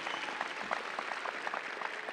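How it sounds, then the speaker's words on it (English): Audience applause at a doctoral hooding ceremony, a steady, moderately quiet patter of many hands clapping across a large room, without talk over it. "give yourselves a round of applause"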